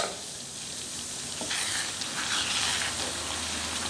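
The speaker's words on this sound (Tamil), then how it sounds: "இப்போ நல்லா இப்படி கிளறி கொடுக்குறோம்" Akkara adisal, a sweet rice cooked with ghee, cashews and raisins, being stirred in a pot, with steady close sizzling and soft scraping strokes throughout, no voices.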